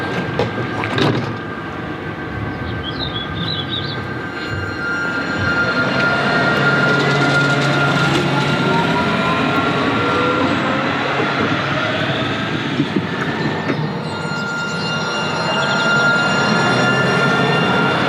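A tram rolls steadily along its rails, a continuous loud rumble with metallic squeals and faint clicks from the wheels, building slightly midway.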